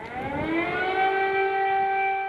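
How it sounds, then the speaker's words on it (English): A loud air raid siren in Kyiv, Ukraine wails, its pitch climbing at first and then holding a steady, sustained tone throughout, with no talking. "Air raid sirens becoming a part of everyday life in the Ukrainian capital of Kyiv"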